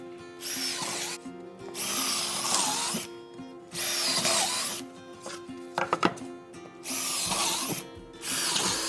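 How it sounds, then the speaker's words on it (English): A power drill cuts countersink holes into a wooden trestle bench, four loud whirring bursts of about a second each separated by short quiet gaps, with a few sharp knocks in between. "Countersink all 4 of these, drill it deep enough so that I can put a bung in later."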